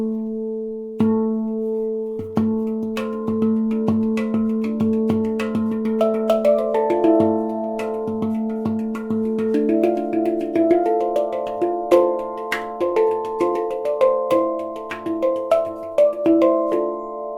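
A sunpan handpan is played in a steady flowing pattern, its strong, punchy center note ringing beneath quieter side notes. Bell-like tones overlap and sustain throughout, with crisp percussive strikes.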